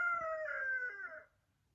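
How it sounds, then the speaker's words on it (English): A single drawn-out call from farm chickens, a rooster-like crow lasting just over a second, heard fairly clearly before fading to quiet. "you're going to hear chickens throughout the video because I pretty much live in a farm"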